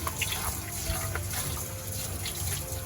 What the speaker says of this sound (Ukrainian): Тут висипала гарячу воду